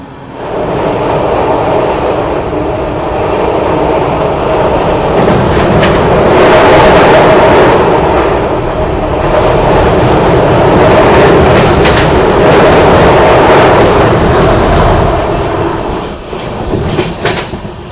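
The 12313 Sealdah New Delhi Rajdhani Express runs on the rails near Prayagraj Junction under a 45 km/h caution, giving a loud, steady rumble with rhythmic wheel clatter that continues throughout.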